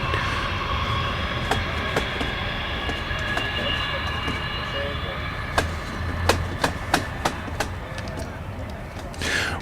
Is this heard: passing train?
yes